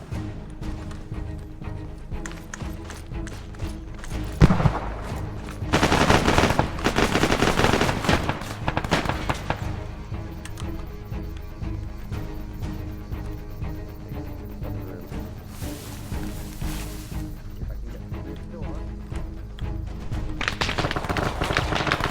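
Gunfire in a military shooter video game, with repeated shots and bursts that run continuously at moderate loudness, swelling into heavier volleys at times.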